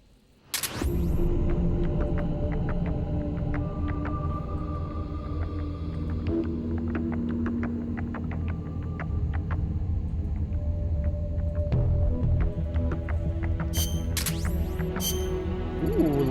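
A deep, sustained explosion rumble from the video game Metal Gear Solid Portable Ops, a low roar and throb that holds steady for about sixteen seconds with scattered game tones and clinks over it.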